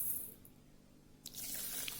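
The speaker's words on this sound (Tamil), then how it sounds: "கொஞ்சோண்டு தண்ணி விட்டு ஒரு கொஞ்சமாக கல்லுப்பு சேர்த்து நல்லா பிசைஞ்சு கழுவி எடுத்துக்குங்க" Water runs faintly into a bowl of ration rice with rock salt for washing, a quiet trickle that swells and splashes more after a soft start.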